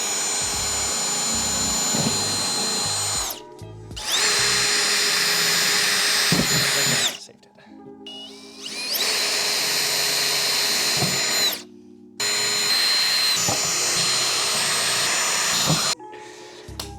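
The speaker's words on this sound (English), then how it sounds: "We're gonna try and drill like a pilot hole just to get them started" A power drill boring pilot holes in a car body, a Mazda RX-7 FD, whines in three long, loud bursts separated by short pauses, high-pitched and close, with faint handling noises between runs.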